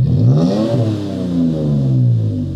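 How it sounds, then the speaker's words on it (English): A 2016-2023 third-generation Toyota Tacoma pickup with an MBRP single side exit exhaust revs up, with a deep rumbling roar that climbs in pitch, eases back, then rises again, loud and close throughout. "we recommend the MBRP single side exit exhaust as a budget option"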